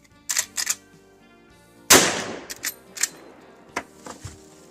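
Lever-action rifle shots from a .35 Remington and a .30-30, with one sharp, loud report followed by several quicker clicks and clacks, likely the lever cycling, and a couple of lighter snaps before it.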